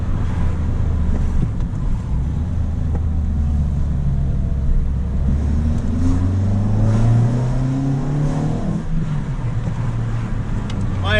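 Car fitted with a Typhoon intake, driving with steady engine drone and induction roar that swells as revs climb, wind rushing over the microphone throughout, no talking.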